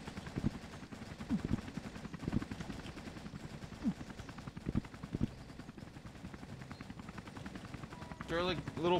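In Russian Half-Life, a helicopter fires in rapid, uneven bursts of gunshots with a low rotor rumble underneath, while a player talks over the action.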